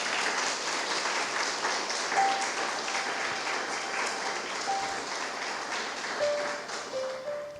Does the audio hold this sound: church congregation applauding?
yes